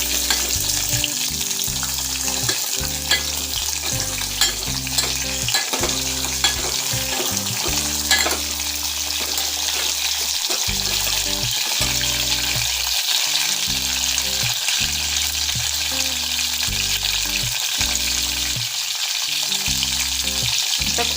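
Pieces of drumstick pod with curry leaves frying in a pan, a continuous close hiss of sizzling with occasional stirring strokes, heard beneath steady background music.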